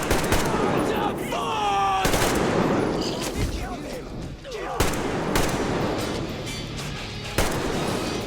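Repeated gunfire from a first-person shooter, Metro Exodus on Ranger mode, with several loud bursts and rapid rattling shots spread across the span, sharp cracks standing out over a dense, noisy game soundscape.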